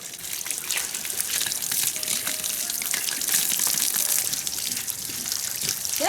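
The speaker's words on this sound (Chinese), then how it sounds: "把萝卜来洗洗嘛" Radishes being rinsed in water on a rural farm: a steady gushing, splashing flow with small sloshing bursts, close and continuous, no voices.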